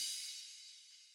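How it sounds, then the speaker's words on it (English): A short crash cymbal sample from a drum mix, one bright hissing hit that decays quickly over about a second, heard alone with no talking. "So we've got a crash short that sounds like this."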